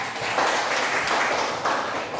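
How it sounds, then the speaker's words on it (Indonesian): A classroom of students clapping their hands together, a dense, continuous patter of many claps at close range, steady and fairly loud throughout. "Tepuk tangan."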